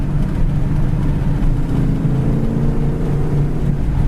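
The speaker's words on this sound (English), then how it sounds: "Going down the road, the dual exhaust just has a nice bark to it." Low, steady engine rumble from inside a 1970 Dodge Challenger with a 318 V8 and dual exhaust cruising down the road, a continuous droning burble with no talk.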